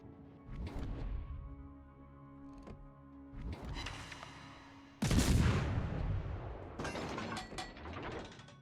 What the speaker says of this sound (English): So just keep shooting as much as I can.